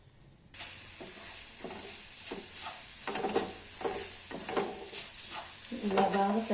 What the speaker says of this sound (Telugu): ఈ మిక్సీ పట్టుకున్న వెల్లుల్లి కారాన్ని ఇట్లా వేసుకొని బాగా ఫ్రై చేసుకోవాలండి